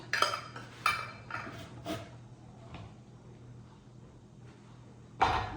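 A black lid going onto a glass jar of homemade tomato relish, several faint clinks and scrapes spread out over a quiet background, then a sharper clink at the end.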